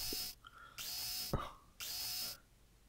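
In the game Deponia, a drill bores into a pipe in three loud whining bursts with short gaps between, and a metallic clank partway through.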